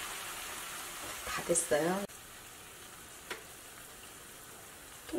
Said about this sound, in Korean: 마지막에 고추를 넣고 한 20초 정도만 센 불에서 볶아줘요.